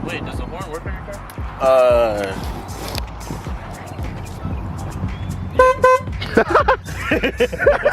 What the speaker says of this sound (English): I heard the horn